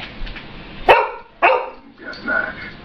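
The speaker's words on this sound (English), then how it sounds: "I gotta deal with my dog." A dog barks twice, loud and close, followed by a softer, drawn-out whine or bark.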